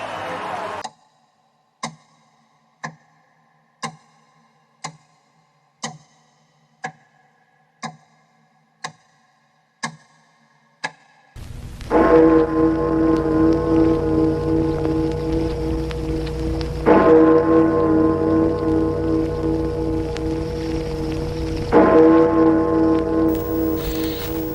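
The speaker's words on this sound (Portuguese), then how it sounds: "Ao soar o carrilhão dando as 12 badaladas, ao se encontrarem os ponteiros na metade do dia" A radio noon opening: a clock ticks steadily about once per second for several seconds, then a carillon sounds the midday chimes, with resonant bell strikes ringing out loud against a sustained background.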